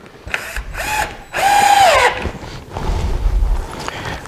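A power drill drives deck screws into half-inch exterior plywood for a squirrel feeder, with short whining bursts of the motor rising and stopping, the longest in the middle, followed by rustling and handling noise.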